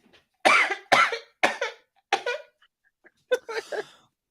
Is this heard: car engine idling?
no